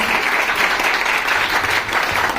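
Steady, loud applause from an audience at a business seminar in India welcoming a guest, continuous dense clapping throughout.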